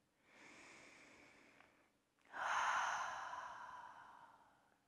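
Two slow, audible breaths, a softer inhale followed by a louder, longer exhale, are drawn close to the microphone during a seated yoga twist, with no other sound.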